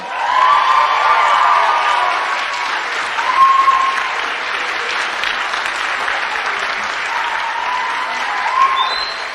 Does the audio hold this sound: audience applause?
yes